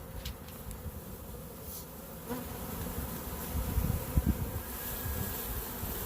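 A honey bee swarm being shaken from a swarm, a dense continuous buzzing of many bees close by, steady and fairly loud with no talk.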